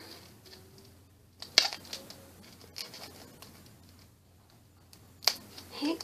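A few sharp snips and crisp clicks of sticky scissors cutting tape, scattered over a quiet background, with a faint rustle between cuts.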